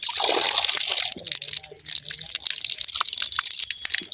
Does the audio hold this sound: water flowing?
yes